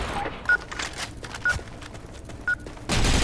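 Video game gunfire crackles in a handful of sharp bursts, each with a short beep-like tone, set against a busy background, ending in a sudden loud burst of noise.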